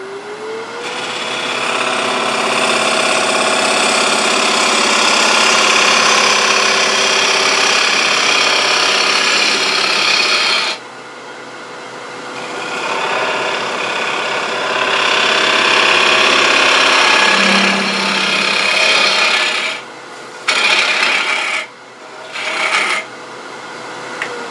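A wooden potpourri bowl spins on a lathe as a 3/8 inch swept-back bowl gouge cuts its side, a loud, sustained rasping shear broken by pauses and short bursts of cutting near the end.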